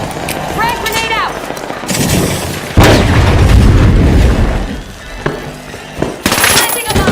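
A frag grenade goes off in a video game as a loud, close boom with a long rumbling tail, set among bursts of gunfire and other game effects. A voice speaks briefly before the blast.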